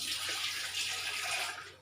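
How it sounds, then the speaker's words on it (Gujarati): Jaggery water for Gujarati wheat-flour lapsi poured into a heavy-bottomed pot, a continuous close splashing pour lasting under two seconds and easing off at the end, no talking. "આ ગોળનું પાણી છે એને આપણે અંદર એડ કરી દઈશું."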